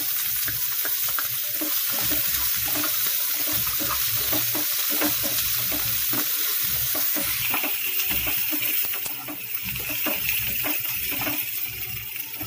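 Namkin simui, thin vermicelli, fries in a pan with a constant crackling sizzle and quick spatula clicks and scrapes throughout. The texture shifts slightly near the end, and no one speaks.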